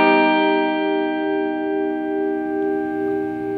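Sustained guitar chord, strummed once and left ringing steadily for several seconds with a rich, evenly decaying tone.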